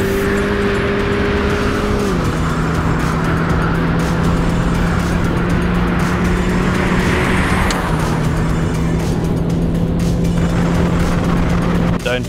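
Renault Clio RS 200 hatchback climbing a hillclimb course at race pace, its engine droning loudly and steadily with shifting pitch as it approaches, blended with wind and outdoor ambience while spectators chatter nearby.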